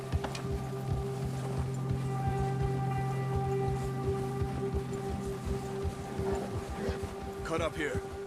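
Spring storm rain in Red Dead Redemption 2, a constant soft hiss of rainfall under a sustained musical drone, with voices talking over it and horse sounds near the end.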